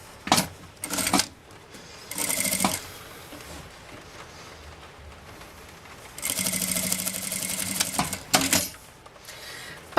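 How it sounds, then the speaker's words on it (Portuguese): A sewing machine stitches a seam on bias binding for a handbag, running in several loud mechanical bursts of different lengths, from short spurts to a long steady run, with quieter pauses between. "passa uma costurinha aqui"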